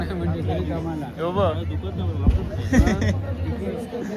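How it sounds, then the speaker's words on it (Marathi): Crowd chatter from a village temple festival procession for the goddess Bhagavati, dense overlapping voices and babble close around, with a low steady hum beneath and a couple of brief thumps. "गर्दी बघा किती आहे"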